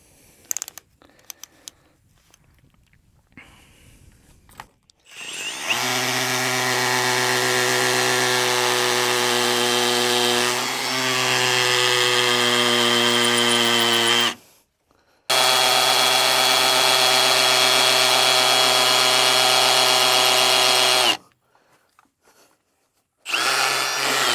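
Cordless power drill in plain drill mode running, not hammering, two long steady loud whirring stretches of several seconds each with a brief pause between, after quieter handling noises.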